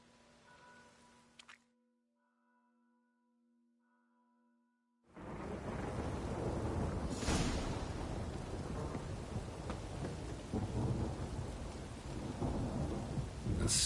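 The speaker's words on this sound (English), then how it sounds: "A storm, damn it." Game thunderstorm in The Witcher 3: after a quiet tonal lull, heavy rain and rolling thunder burst in loudly and continue, with a strong crack partway through.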